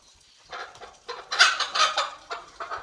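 Several free-range village chickens cluck in short, repeated bursts, fairly close, with no talking.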